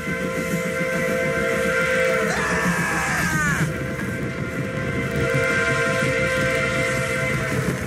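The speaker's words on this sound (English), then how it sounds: "Train!" A steady rumbling train approaching in a Family Guy cartoon scene, with a sustained whistle-like tone and a brief yell in the middle, loud and close.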